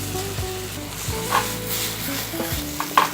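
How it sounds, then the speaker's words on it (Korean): Rice and half an onion stir-fried together in a hot pan until translucent, for an abalone risotto, a steady close sizzle with scraping stirs and occasional clinks of the spatula, no talking. "색깔이 투명해질 때까지 볶아주고요"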